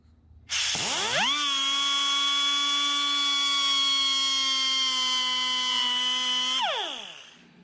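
A 2.5-inch cutoff wheel spins up and cuts a relief into a pipe during a car wideband sensor install, giving a loud, steady, high-pitched tonal whine for about six seconds before winding down.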